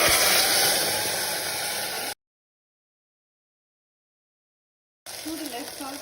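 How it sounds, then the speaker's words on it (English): Steady, hissing sizzle of almonds frying in ghee over a very low flame, broken by a stretch of total silence before the sizzle resumes with a voice faintly over it. "So I'm frying it in a very low flame now."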